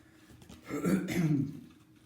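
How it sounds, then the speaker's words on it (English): One short, rough cough, close by and fairly quiet, standing alone with near silence before and after. "I'm kind of concerned about the coughing that I've got."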